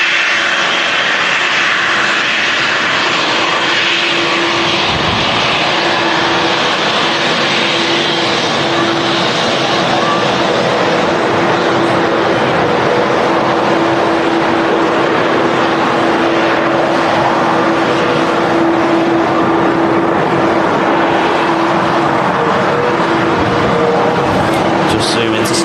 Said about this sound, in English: Touching down now. It's a Lufthansa A319, first of the show today.